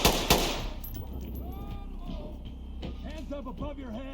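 Two sharp gunshots crack at the start in the video game Ready or Not, followed by talking over faint background noise.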